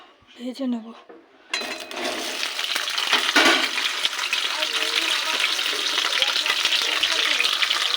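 Pointed gourd pieces hit hot oil in a wok and break into a loud, steady frying sizzle that continues unbroken, after a brief stretch of talk at the start.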